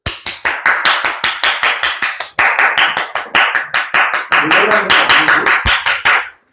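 A classroom of students claps in a quick, loud, evenly spaced rhythm, sharp individual claps close by, with a brief pause midway before the rhythmic clapping resumes and ends.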